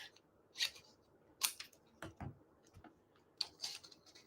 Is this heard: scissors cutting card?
yes